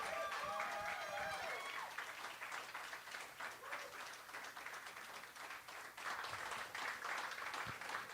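An audience at an open mic night claps steadily after a performance, with a brief murmur of voices at the start and the applause holding at a fairly even level.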